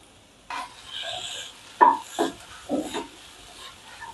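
Soaked cashews, almonds and melon seeds stirred and roasted in a pan, a few close scraping strokes of a spatula with soft rustling between them, sparse and fairly quiet.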